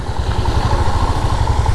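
A motorcycle engine runs steadily and loudly throughout a ride on a rough, waterlogged road with big potholes, its low throbbing drone continuous with no voices.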